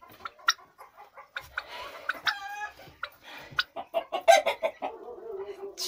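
Chickens cluck and a rooster calls near a box of birds, a run of close, uneven clucks and squawks with a brief crowing phrase in the middle.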